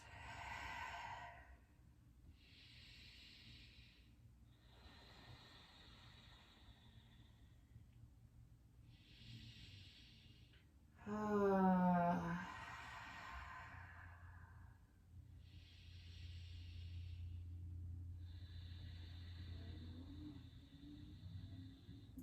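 Slow, deep breaths in and out during a gentle stretching flow, several soft airy exhalations spaced out, with one louder, longer sighing exhale near the middle, all close and alone over a low hum.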